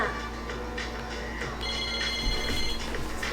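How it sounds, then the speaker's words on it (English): A phone rings with an incoming call in the video game Persona 3 Portable, a steady electronic ringtone with repeating tonal pulses over a continuous background hum, heard alone without talk. "Mitsuru received incoming call from her phone."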